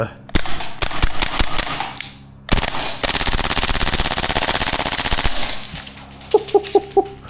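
Maruyama SPC-9 gas blowback airsoft rifle firing on full auto, a few sharp snappy bursts followed by a longer continuous rattling string, close and loud, then a handful of separate single cracks.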